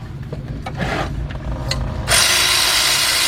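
Ratchet working oil pan bolts loose underneath a 2005 Cadillac CTS 3.6, with quick clicking and metal scraping, followed by a sudden steady hiss that masks the rest, close and loud.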